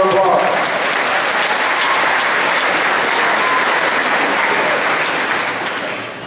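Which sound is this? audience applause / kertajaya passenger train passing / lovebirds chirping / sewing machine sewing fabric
audience applause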